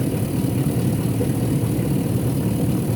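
A Hummer engine with a broken, jammed alternator shaft runs steadily up close, giving a continuous dense rumble with a faint rapid knocking texture and no voices.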